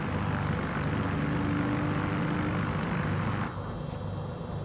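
Yakovlev Yak-9 piston fighter propeller engine running in MSFS 2020, a loud steady drone throughout, dropping slightly in level near the end as it begins to wind down.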